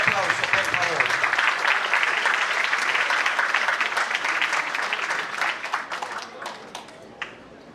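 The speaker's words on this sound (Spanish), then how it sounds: "Pepén, esposa del homenajeado José Blanche, con un fuerte aplauso, por favor." Audience applause at an evening tribute ceremony, loud and sustained, thinning and fading toward the end with a few last claps.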